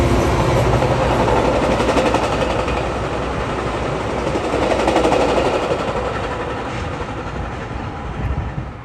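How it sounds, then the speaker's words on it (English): A Metra commuter train rolls through a rail yard with a loud, continuous rumble and rapid clattering of wheels over track joints, close and steady throughout. "First train was a Metro with Winnebago leading and Dash 2 in second."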